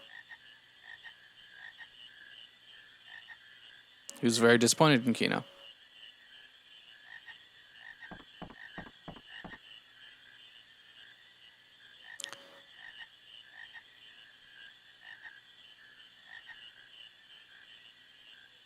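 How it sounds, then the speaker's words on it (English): Frog croaking in Final Fantasy IX's swamp, one loud rasping croak burst near the start, then a few fainter clicks, set against a steady chirping ambience; a voice speaks briefly. "Yep, you got a frog, good job."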